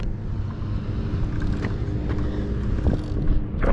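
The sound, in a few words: Talaria XXX electric dirt bike accelerating on throttle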